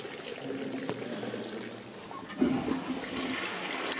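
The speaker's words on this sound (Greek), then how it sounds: "Ακούμε το καζανάκι." Toilet flushing in a backstage dressing-room restroom, a steady rush of draining water that swells partway through, heard close and alone with no talking.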